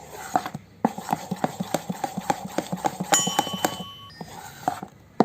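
Sandan rice batter, just mixed with soda, is beaten in a bowl with quick, even strokes, about four soft thuds per second, close and steady, with a short pause partway through.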